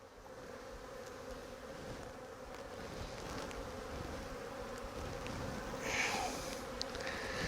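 Honey bees buzz around hive frames during syrup feeding, a dense steady drone that swells slightly toward the end, close by with no talking.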